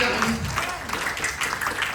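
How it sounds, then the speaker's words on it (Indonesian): Church congregation applauding during a sermon, a dense wash of many hands clapping at once, steady and fairly loud with a speaking voice partly mixed in at the start. "Beri tepuk tangan yang meriah"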